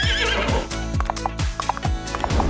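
A cartoon pony in a video game gives several loud, shrill neighs and whinnies over rhythmic clip-clop hoofbeats, all close and dominant.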